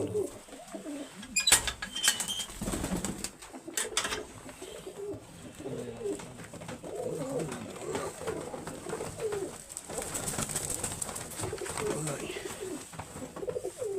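Goodi breed pigeons coo softly and repeatedly in a close, steady murmur, with someone talking intermittently over them.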